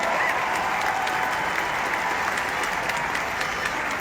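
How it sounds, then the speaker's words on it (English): A large crowd applauds inside an arena at a rally, honoring local businesses; steady, dense clapping fills the space at a constant loud level throughout, with no talk over it. "Give them a round of applause, all these local businesses who committed to solidarity today."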